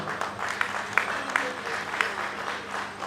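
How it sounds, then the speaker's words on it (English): Steady applause from a crowd at a reunion fundraising dinner, with a few sharper claps standing out, continuing throughout without a break. "a round of applause one more time for the chairman"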